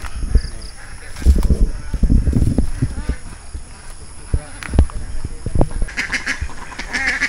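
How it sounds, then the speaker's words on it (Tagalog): Ducks quack and honk irregularly nearby amid outdoor noise, with scattered bursts of calls and a person talking over them. "Yan ang mga pato, mga itik"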